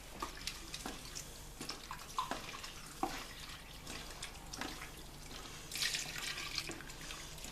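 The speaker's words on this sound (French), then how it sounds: "We have natural water here to add to our paste." Natural water trickles and splashes into a paste mixture of raw materials, a faint, uneven pouring with small drips and spatters, heard close and alone.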